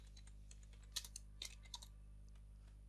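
Quiet typing on a computer keyboard during coding work, a few scattered soft key clicks with a small cluster near the middle over a low steady hum.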